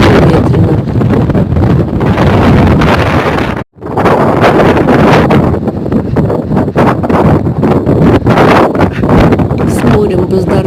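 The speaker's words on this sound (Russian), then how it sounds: "На скалистом берегу очень ветрено." Strong wind roars across a rocky seashore, battering the microphone with loud, continuous buffeting gusts. The roar cuts out for a moment partway through, then returns as strongly as before.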